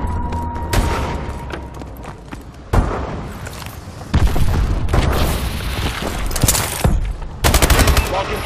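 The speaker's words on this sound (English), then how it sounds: "Friendly missile strikes incoming." Explosions from friendly missile strikes in Call of Duty: Advanced Warfare multiplayer, several heavy booming impacts landing at irregular intervals amid sustained gunfire, loud and close, with some voices in the mix.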